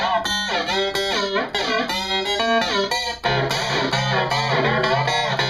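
Roland SY99 synthesizer dialed in to imitate music played over an FM or AM radio, with a bright, slightly distorted tone. Gliding, bending notes over steady low chords, loud and continuous, with no voices.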